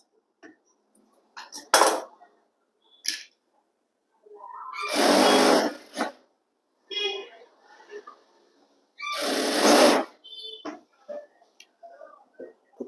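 A sewing machine stitching semi patiala pant fabric runs in short separate bursts of whirring, two longer runs of a few seconds each and several brief taps, with quiet pauses between.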